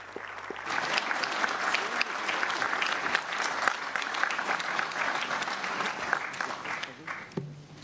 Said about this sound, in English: The applause says it all.